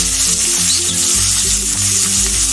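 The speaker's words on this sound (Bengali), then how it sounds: "তো এখন আমি দুটো বড় সাইজের পেঁয়াজ কুচিয়ে নিয়েছি তো পেঁয়াজটা এখন আমি তেলের মধ্যে" Two large chopped onions fry in hot oil with bay leaves for a Kerala-style chicken curry. A loud, constant sizzle runs throughout beneath a low, humming background.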